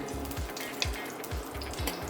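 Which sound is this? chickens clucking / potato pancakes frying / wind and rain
potato pancakes frying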